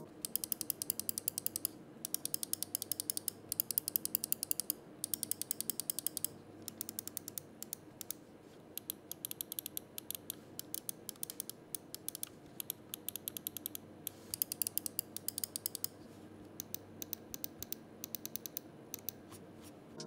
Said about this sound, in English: When it comes to the buttons, the clicks are also perfect.